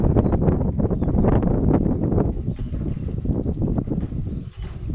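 Strong wind blows over rice fields in Godean during the dry season, buffeting the microphone in loud continuous rumbling gusts with no pauses.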